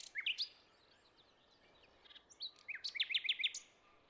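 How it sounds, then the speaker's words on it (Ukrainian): Forest grouse such as hazel grouse, capercaillie and black grouse calling outdoors in Polissia woodland: a short burst of high chirps, a pause, then a quick run of repeated chirping notes, faint against a quiet background. "У лісах Полісся є багато птахів рябчиків, глухарів і тетеруків. Ось послухай, як вони співають."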